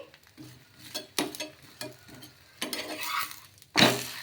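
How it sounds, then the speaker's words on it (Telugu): A rumali paratha roasts in oil on a hot pan, giving soft sizzling broken by a few scraping and flipping strokes, the loudest near the end, with no talk. "ఇలా 2 వైపులా బాగా కాల్చేసుకోవాలి."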